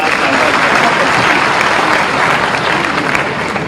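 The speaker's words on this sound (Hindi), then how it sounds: "जरा ताली बजा करके" Dense, steady applause from a large audience at an agricultural innovation event in Bhopal during the Chief Minister's address, loud and close, running evenly for nearly four seconds with no voices.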